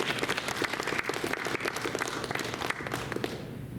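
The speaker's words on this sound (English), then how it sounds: "could we just give a round of applause to all the people who made this happen?" Steady applause from an audience, dense clapping that stays fairly even before beginning to thin out at the very end.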